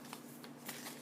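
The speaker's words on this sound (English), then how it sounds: "I'm shuffling my self-care cards" A deck of self-care cards being shuffled, a quiet, brief riffle of soft papery flutters close by with no talking.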